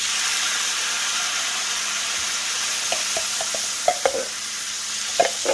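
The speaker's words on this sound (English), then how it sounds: "I'm going to add my pineapple right in here." Spam and pineapple pieces fry in a hot pan, a steady close sizzle broken by several short scraping knocks as a utensil stirs them, with no talking.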